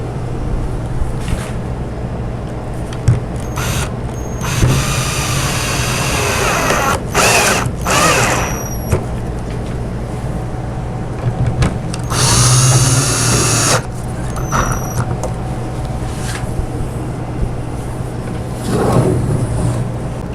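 A power drill driving bolts into the side panel of a wooden barrel-top toy chest, whirring in repeated loud close bursts with short pauses between runs.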